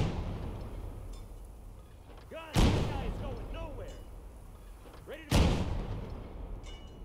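Two heavy tank cannon shots boom out about three seconds apart in Call to Arms - Gates of Hell, each a sharp loud blast with a rumbling tail, over steady battlefield noise while players talk.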